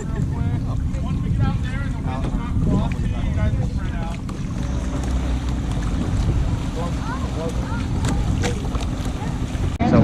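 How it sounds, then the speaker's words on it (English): A kayak is towed by a motorboat on open water off Hawaii, heading toward Coconut Island. A loud, steady engine drone mixes with rushing water and blustery wind noise throughout, close and unbroken. "All right, I'm getting towed by the boat."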